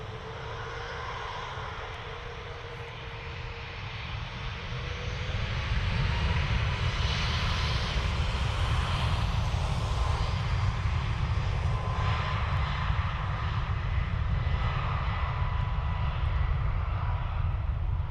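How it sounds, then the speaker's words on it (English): A nine-year-old Aer Lingus Airbus A330 jet arriving from New York JFK at Dublin Airport, a broad engine roar that swells after a few seconds and holds loud and steady, with no voices. "We have Aer Lingus 330 off the New York JFK. This is a 9-year-old Airbus."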